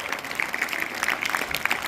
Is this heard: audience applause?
yes